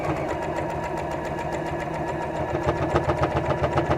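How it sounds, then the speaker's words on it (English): A home sewing machine fitted with a regular universal needle runs steadily through fabric, giving a close, continuous mechanical whir with a rapid rhythmic stitching tick that grows slightly louder and more pronounced toward the end. "I've just got my regular universal needle in there, and it's sewing like a dream"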